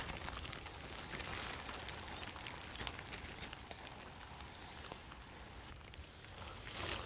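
Rain falls steadily on a vegetable garden planted with peppers and potatoes, a soft constant patter with scattered droplet ticks and no voices.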